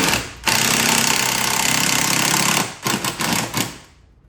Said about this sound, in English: you can tighten it down with an 8mm socket.